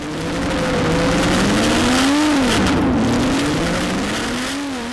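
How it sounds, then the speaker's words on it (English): Porsche 997 GT3 Cup race car, a restored Grand Am spec car, growls loudly and close, its engine pitch rising, dipping and climbing again over a few seconds. "just that growl from these Grand Am spec cars, they're just fantastic"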